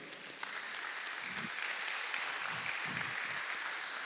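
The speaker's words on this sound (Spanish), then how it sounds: "le puede dar un aplauso al Señor" Congregation applause during a church sermon, a steady wash of many hands clapping at moderate volume, slightly distant and roomy, with a few low murmurs underneath.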